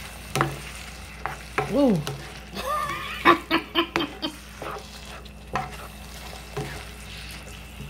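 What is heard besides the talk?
stirring taco meat in a frying pan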